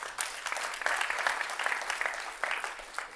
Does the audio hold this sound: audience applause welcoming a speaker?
yes